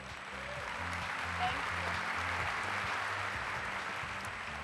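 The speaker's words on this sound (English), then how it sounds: "Let's have a round of applause for all the judges and the auditors tonight." A pageant audience applauds the judges and auditors at the Miss North Carolina pageant, a steady wash of many hands clapping, moderately distant, with a low musical hum underneath.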